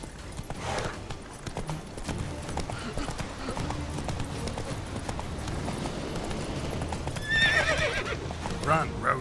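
In The Witcher 3 video game, a horse gallops with rapid rhythmic hoof clops and neighs and whinnies, while voices and game sounds play over the hoofbeats.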